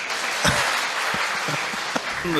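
An audience claps for Rafeeq at a talk, a steady wash of applause from many hands with a few sharper nearby claps and faint voices underneath.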